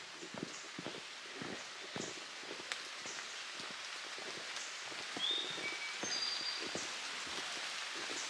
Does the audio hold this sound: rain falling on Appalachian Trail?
yes